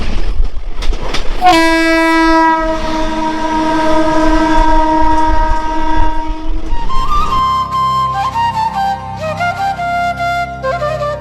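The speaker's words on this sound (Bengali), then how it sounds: "আমরা এখন রাজবাড়ি রেলওয়ে স্টেশনে প্রবেশ করতেছি" Madhumati Express intercity train pulling into Rajbari railway station, a loud sustained horn blaring for several seconds over rumbling wheels, then lower rolling and clattering of the carriages close by.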